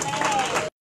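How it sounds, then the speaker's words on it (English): A church congregation claps in praise, a dense burst of hand clapping mixed with voices that stops abruptly, followed by one short clap-like blip. "Give God a hand clap of praise."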